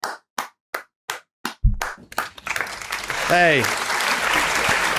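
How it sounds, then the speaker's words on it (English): An applause sound effect played on a sports podcast: a few sharp separate claps first, then a swelling crowd cheer and clapping, with a voice speaking briefly over it. "Play the applause music."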